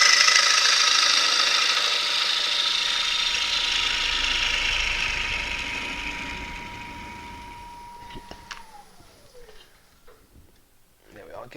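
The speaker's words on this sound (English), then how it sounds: "Let me take a few more cuts out of here" A woodturning gouge cuts a wooden bowl spinning on a lathe, a steady near hiss and whir that gradually fades as the cut eases off, the motor tone winding down at the end.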